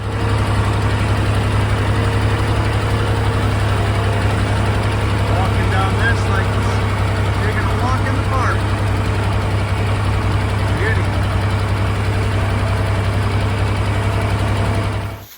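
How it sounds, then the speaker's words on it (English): An old yellow tractor runs downhill, its engine a steady loud low rumble close by for the whole stretch, with faint scattered noises above it. "Okay, so I'm down here with the tractor here now"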